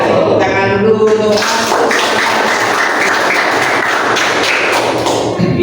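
Applause breaks out in a classroom after a short spoken line and runs as a dense, even clatter of many hands for about four seconds before easing off.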